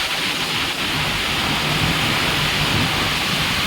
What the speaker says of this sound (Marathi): अतिशय भेदक असा पावसाचा आजचा हा मारा होता